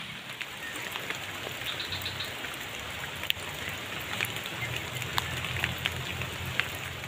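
Heavy morning rain in an Indonesian village patters on surfaces with a constant wash of drops and occasional sharper ticks, moderately loud and continuous.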